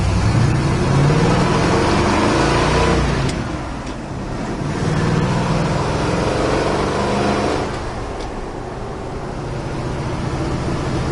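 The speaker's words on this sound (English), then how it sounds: "Nice running Bronco. It pulls like a freight train." A 1968 Ford Bronco's engine runs while the truck drives, a loud broad roar with road and wind noise that dips and swells as it pulls, heard close and without talk.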